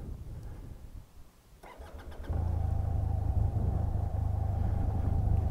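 A white 2020 Sym MaxSym TL 465 cc scooter is started up close. After a quiet moment, a short cranking burst catches into a steady, even idle that runs to the end.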